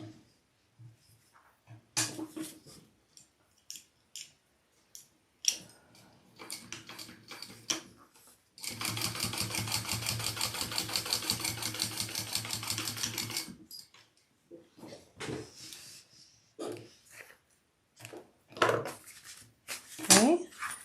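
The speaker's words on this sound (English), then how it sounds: "Okay, I'm going to sew that on." Home sewing machine stitching a fabric bag lining for a crossbody bag, a steady rapid mechanical whir running for about five seconds mid-clip, framed by scattered clicks and handling noises before and after.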